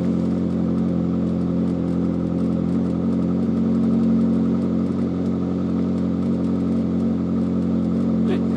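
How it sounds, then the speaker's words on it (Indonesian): A Caterham sports car's engine runs steadily with a muffled exhaust note, a continuous low hum held at an even level throughout, with a person talking over it. "Enggak begitu berisik ini mobil. Masih ada peredam knalpot ini,"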